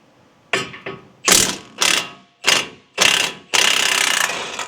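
A ratchet with an 18 mm socket loosens tight, pink-Loctited brake caliper bracket bolts on a Ford Ranger, giving seven close, loud bursts of rapid clicking, each separated by a short pause, with no talking.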